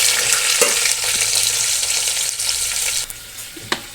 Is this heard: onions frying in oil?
yes